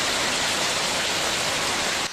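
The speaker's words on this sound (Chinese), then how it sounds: "外口落大雨，门口正做水池" Heavy rain pours down during flooding in Chiayi, Taiwan, a dense, unbroken roar of downpour that stays loud and even throughout.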